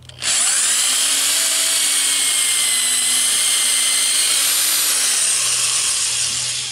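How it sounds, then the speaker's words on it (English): A power drill whines steadily as it bores through two pieces of wood for a hide stretcher, one continuous loud run with a slight dip in pitch under load, no speech. "from here I'm just going to drill this hole completely through both of them."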